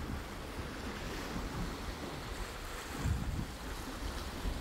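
Water laps and washes against a broken section of wall lying in the sea, a soft continuous surf wash with a slightly stronger surge partway through, mixed with light wind noise.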